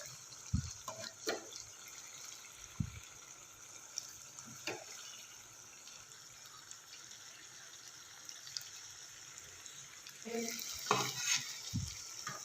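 Pieces of fish in masala for a fish curry being gently stirred and turned in a pan, giving soft scraping clatters over a faint, steady sizzle, louder near the start and again toward the end.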